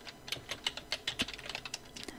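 Rapid, crisp keystrokes on a computer keyboard while entering text in Photoshop for a GTQ exam practice task, a close, even run of clicks with no speech.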